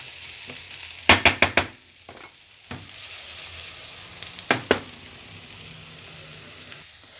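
Okra and chicken pieces frying in a pan until golden, a soft steady sizzle broken by a few sharp crackles and clinks, including a quick cluster of pops near the start.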